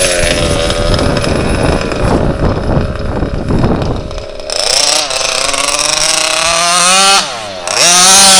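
An HPI Baja RC car with an RCMAX 90 gas engine runs loud and close, first holding a raspy high-revving buzz, then changing pitch through rising and falling revs near the end.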